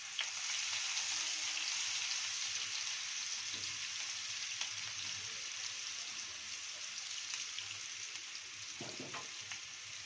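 Green chili and chopped onion sizzle and fry steadily in a hot pan, a dense continuous crackle with a brief stir near the end, no voices.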